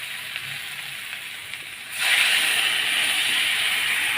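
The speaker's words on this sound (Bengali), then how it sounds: "কড়াইটা একটু ঘুরে যাচ্ছে এখন আমি জল দিয়ে দেবো" Water hits a hot kadai of sautéed, well-fried spices: a quiet background hiss suddenly swells into a loud, sustained sizzling rush about halfway through and keeps going steadily, with no voices.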